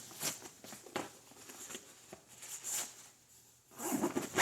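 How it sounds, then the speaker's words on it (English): A zipper on a pocket of an AGL Discs Yellowstone disc golf bag, fitted with paracord zipper pulls, is pulled shut in a few quick, close, soft rasping strokes, with a quiet pause before a final longer zip. "Zips up again."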